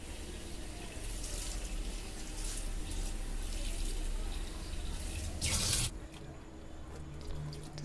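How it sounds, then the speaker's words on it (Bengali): Tap water runs continuously into a sink while potatoes and ridge gourd are washed, a steady close rush with splashing bursts, then a sudden loud gush before the flow drops away to a quieter trickle. "আমি আলু আর ঝিঙেটাকে সুন্দর করে ধুয়ে নিচ্ছি"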